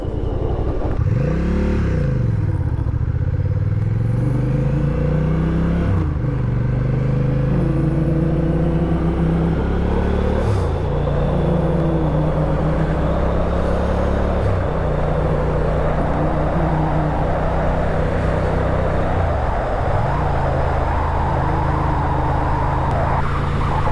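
Honda Rebel 1100 motorcycle ridden on the road, loud steady engine drone with clear rev rises and drops at gear shifts, heavy wind rush throughout, no talking.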